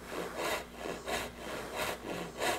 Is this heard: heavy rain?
no